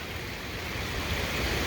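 River water of the Scioto rushes and swirls around a person standing mid-stream, a steady, close, hissing flow with no voices.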